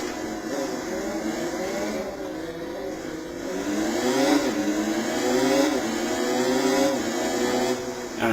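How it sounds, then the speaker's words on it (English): A racing motorbike engine in the video game Riding Spirits 2 revs steadily and loudly, its pitch rising and falling in sweeping waves as the bike accelerates and shifts, with no talk over it. "this is pretty much now a full-blown racing bike."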